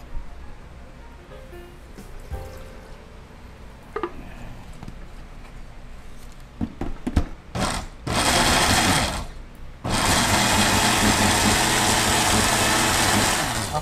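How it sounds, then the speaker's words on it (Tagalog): A few clunks and knocks, then a kitchen blender whirs loudly in two bursts, the second running steadily to the end. "Blender tayo pa."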